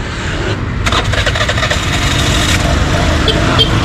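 An engine turning over and catching after a flat tire has been fixed, then running steadily as a loud, constant rumble close by throughout.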